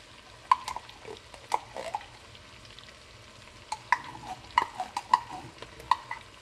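Oxtail stew getting tomato paste worked in with a spoon, a soft sizzle beneath sharp scrapes and knocks of the utensil against the pot, recurring in irregular bursts close by, with no talking.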